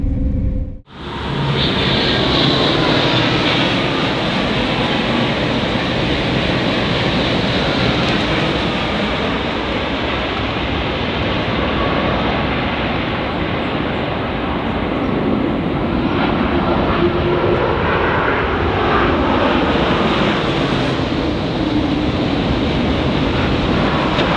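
A KTX high-speed train runs at over 250 km/h, a loud, steady, broadband roar that holds unbroken for the whole stretch with no voices.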